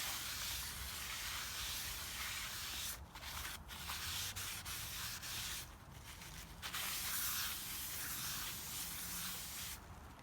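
Brake cleaner sprayed onto a new front brake rotor during a 2001-2007 Toyota Highlander brake pad and rotor replacement, a steady close hiss that runs nearly continuously with a few brief breaks.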